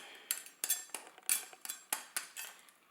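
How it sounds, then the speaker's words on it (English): A knife working through a live crab being cleaned for soup, producing about eight sharp clicking, cracking hits against shell and board in an uneven rhythm, close and clear with no voices. "cut it open, cut all this extra stuff out"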